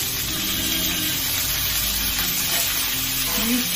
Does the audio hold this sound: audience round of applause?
no